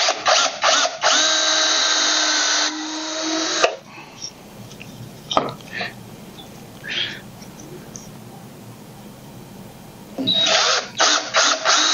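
A power drill bores pilot holes into a wooden push block, with a loud steady whine for about three seconds, a quieter stretch of shop noise, then another short burst of drilling at the end.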